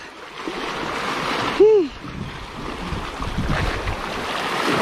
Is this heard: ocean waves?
yes